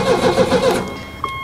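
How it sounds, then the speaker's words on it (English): Starter motor cranking the engine of a 1989 Winnebago LeSharo RV, a short, close, rhythmic churning lasting under a second before it cuts off, with no voices. "And then this is starter."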